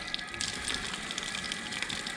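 Water runs from a nasone drinking fountain on a street in Rome, a steady moderate gush and splash that continues evenly throughout, heard up close with no talking.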